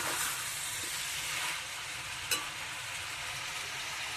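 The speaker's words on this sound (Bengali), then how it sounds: "শুধু তেলে একটু পেঁয়াজ দিয়ে আর এইগুলো সব নাড়ছি।" Onion and mixed vegetables stirred in hot oil give a quiet, even frying hiss, faint and steady, with one brief utensil tap partway through and no voices.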